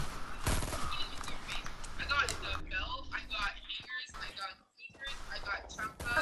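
Gunfire in the Fortnite video game, bursts of rapid shots with game effects, heard close and mixed under players talking.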